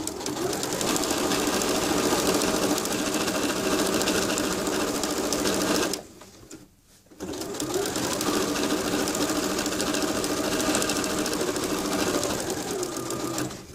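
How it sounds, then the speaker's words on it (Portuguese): A sewing machine stitches bias binding with a steady, loud mechanical whir, running continuously for about six seconds, stopping briefly for under a second, then resuming at the same even pace to the end. "Volta lá para a máquina, costura desde o início."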